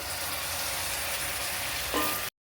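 Lightly salted carrots fry in a pan, a steady close sizzle with a faint stir of the spatula just before it cuts off; no one speaks.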